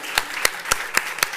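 An audience applauds the participants at an ecosystem builders event with five slow, evenly spaced claps about a quarter second apart. The claps are fairly loud and sharp over a steady background hiss.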